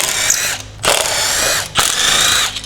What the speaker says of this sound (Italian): Possiamo divertirci col trapanino